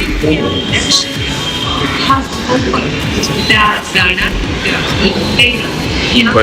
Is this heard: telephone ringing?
no